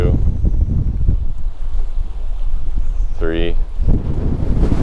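Steady wind roars and buffets across an open fishing boat out on a bay of Lake Sakakawea, constant and broadband, with a voice speaking over it.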